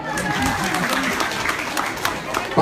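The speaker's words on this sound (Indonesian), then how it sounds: "Tepuk tangan dong." An audience applauds at a political campaign event, a spread-out, steady wash of clapping from a crowd in a room, with voices in the background.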